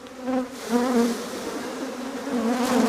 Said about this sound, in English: these are slightly aggressive bees, and the one next to it is quite aggressive as well